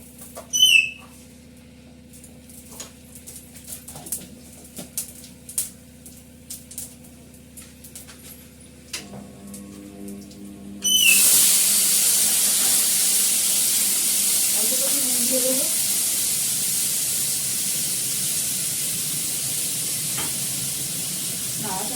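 Panch phoron hits hot ghee in a pan and erupts into a loud, steady sizzle that slowly fades, after a stretch of quiet clinks and handling sounds.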